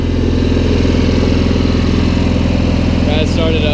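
Cub Cadet 1811 lawn tractor engine idling with the choke fully on, a loud, close, steady rhythmic chug with a faint whistle or squeal near the end.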